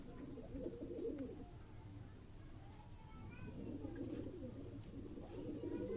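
A Chuha breed pigeon held in the hand coos in low, repeated rolling phrases, faint and a little muffled, with quiet voices in the background.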